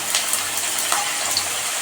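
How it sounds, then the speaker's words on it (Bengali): Potatoes dropped into hot oil for a Bengali-style chicken skin curry give a steady, hissing sizzle. It is fairly quiet and close, with a few brief crackles and no talking. "তেলটা মনে হয় গরম হয়ে গেছে। আমি আলুগুলো দিয়ে দেব।"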